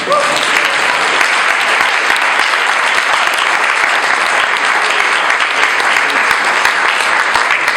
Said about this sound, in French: J'avais prévu l'applaudissement pour plus tard.